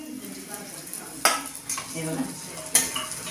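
Stuffed green chillies with masala frying in a pan, a steady sizzle with a few sharp clinks of a utensil against the pan, and a voice speaking briefly.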